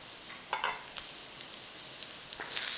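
Garlic and chilli fry in a pan for nasi goreng, giving a steady close sizzle broken by a few brief clatters of stirring.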